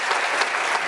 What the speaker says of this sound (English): So have a nice round of applause for the ladies as they leave the stage.